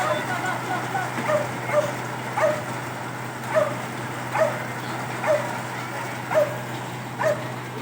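A dog whimpers and yips in short, regular cries about every second during flooding from Typhoon Carina, over steady background noise and a low hum.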